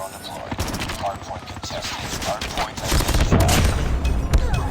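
Rapid bursts of automatic gunfire and single shots crack close and loud in Call of Duty Mobile with a Chicom gun, dense repeated volleys building in intensity, with a voice mixed in.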